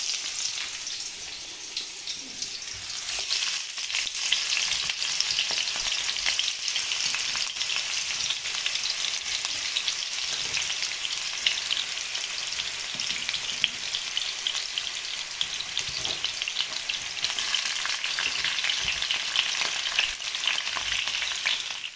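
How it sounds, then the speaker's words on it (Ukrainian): Oil sizzles steadily in a frying pan as apples fry, with occasional stirring, continuous and close throughout. "Першим, що я обсмажую, це яблука."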